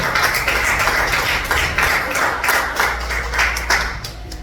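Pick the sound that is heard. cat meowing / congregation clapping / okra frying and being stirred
congregation clapping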